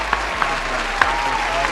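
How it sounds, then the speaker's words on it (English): Brief applause rises at a steady level over a low constant hum, with a few sharper claps standing out. "clap it up"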